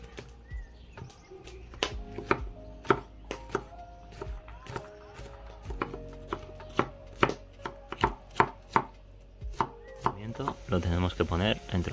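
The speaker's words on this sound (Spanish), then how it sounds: "el pimiento lo cortaremos en trozos pequeños" A knife chops bell pepper into small pieces on a cutting board, sharp close thuds in an uneven rhythm of about a dozen strokes, quickening into rapid chopping near the end.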